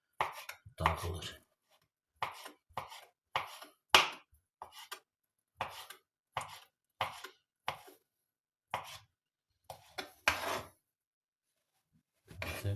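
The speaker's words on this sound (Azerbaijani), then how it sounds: "Krabı isə ortadan belə bölüb bu şəkildə beləcə doğrayırıq." Crab sticks chopped with a knife on a board for crab salad, a series of sharp, close, separate chops in an uneven rhythm with short pauses between them, and no voices.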